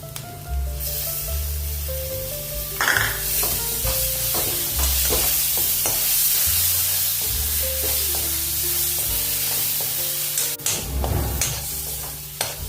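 Steady sizzling of tomato puree masala frying in a pan, with repeated scraping and stirring strokes and occasional clatter, no voices.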